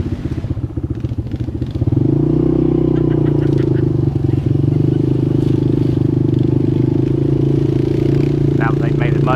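A four-wheeler ATV engine drones loud and close, rising into a sustained steady roar as it pushes through mud on a Veterans Day hunt outing, with brief voices over the engine near the end.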